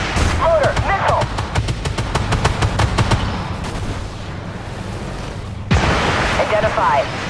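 A tank fires a missile in the armored combat video game Armored Warfare. Rapid crackling shots are followed by one sudden loud boom with a heavy rumbling tail, while radio-style crew voices call out over the action.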